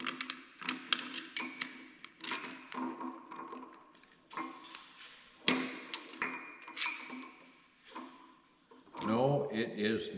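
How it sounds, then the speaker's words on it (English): Metal clinks and knocks from a puller being fitted to a race on a heavy-duty Bobcat skid steer part, sharp irregular taps and rattles spread through the clip, with a louder grinding scrape near the end and people talking throughout. "We get to try and pull this race off of here."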